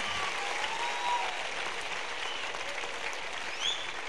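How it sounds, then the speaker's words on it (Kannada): Steady applause from a church congregation at a worship gathering, many hands clapping in a dense continuous patter, moderately loud and unbroken, with faint whistle-like tones and no speech. "ನಾವೆಲ್ಲರೂ ಜೋರಾಗಿ ಚಪ್ಪಾಳೆ ಹೊಡೆದ್ರ ಮುಖಾಂತರವಾಗಿ ಅಭಿನಂದನೆ ಅವರು ಕೂಡ ಹೇಳುವಂಥವರಾಗಿರೋಣ"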